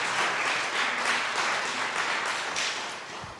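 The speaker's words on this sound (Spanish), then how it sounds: "Y la iglesia le da un aplauso" A church congregation claps in praise during a Spanish-language service, a full, steady round of applause that gradually tapers toward the end.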